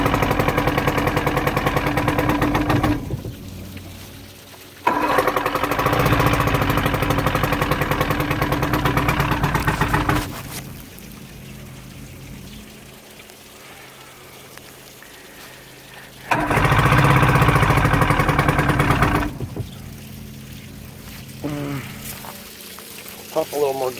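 A Johnson 115 HP two-stroke outboard boat engine runs after winter storage, roaring loudly in several bursts of a few seconds each with quieter, rougher stretches between them.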